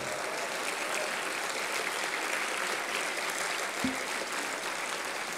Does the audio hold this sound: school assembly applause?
yes